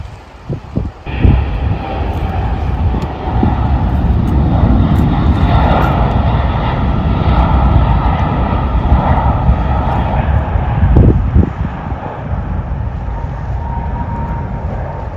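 Fixed-wing airliner passing close by near the runway at a Sydney beach, a loud sustained jet roar that swells and holds for most of the span before easing, with some wind noise on the microphone.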